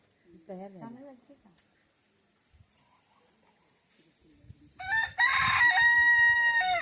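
A rooster crows loudly and close by near the end, in rural Konkan, India, after a brief stretch of someone speaking and then a quiet pause.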